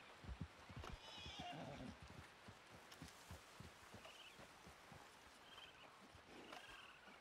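A horse whinnies over a busy field of hoofbeats and thuds in the video game Red Dead Redemption 2. A few more whinnies follow at a distance, all fairly quiet.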